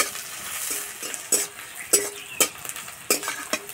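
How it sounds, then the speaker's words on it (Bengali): Thinly sliced onions sizzle in a pan while being stirred, with a steady frying hiss broken by several sharp, close scrapes and clinks of a spatula against the pan. "পেঁয়াজ ভাজা হয়ে গেছে"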